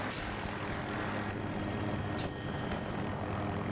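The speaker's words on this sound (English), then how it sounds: "Could be an enemy helo" A helicopter in the Battlefield video game drones with a steady rotor and engine hum, fairly faint and continuous throughout, with a short sharp click near the middle and no voices.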